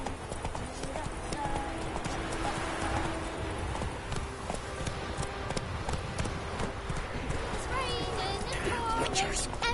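A horse in The Witcher 3 gallops with rapid rhythmic hoofbeats, close and continuous, while a voice talks over it.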